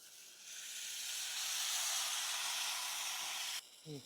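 Water hits hot chicken masala in a pan with a loud, sustained hiss of sizzling steam that swells, holds steady for about three seconds, then cuts off abruptly, followed by a brief low sound.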